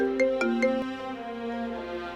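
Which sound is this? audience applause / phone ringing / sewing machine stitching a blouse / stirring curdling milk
phone ringing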